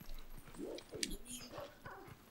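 Dog sounds from the video game Twilight Princess HD: short yips and whimpering barks in quick succession, fairly quiet, with game background noise.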